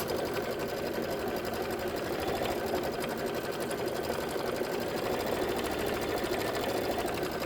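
A sewing machine runs steadily, stitching fabric for a Kimberbell Oh Sew Delightful quilt block, a continuous close, even mechanical whir with no talking.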